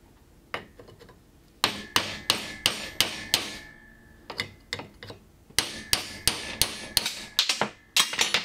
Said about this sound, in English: you're going to use a steel punch, you know, a chisel point punch